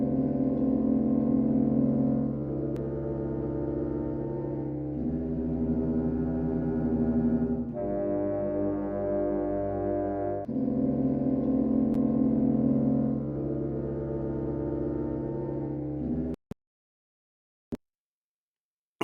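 A grain delay effect applied to a sustained synth tone, giving a steady buzzy drone with stepped, shifting pitch layers for about sixteen seconds before cutting off abruptly, followed by a couple of faint clicks.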